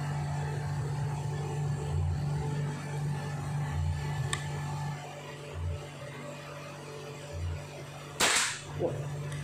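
A PCP air rifle firing Hercules pellets at a target, a single sharp crack near the end of the clip, heard outdoors over a steady low hum and background noise.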